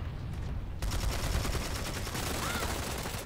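Rapid continuous gunfire in the video game PlanetSide 2, a dense, sustained rattle of many weapons that grows fuller after the first second, with no clear talk.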